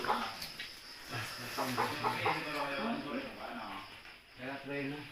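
Native hens and their chicks clucking and peeping nearby, with people talking over the birds throughout.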